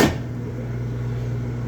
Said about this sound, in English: So then it makes that kind of noise too, like a thunk.